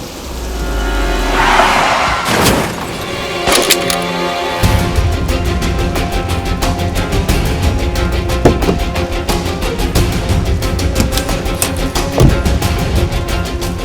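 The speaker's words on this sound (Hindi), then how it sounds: "अरे वाह, बारिश।" Rain falls with a dense, steady hiss full of scattered drops and sharp cracks, and a deep low rumble swells near the start.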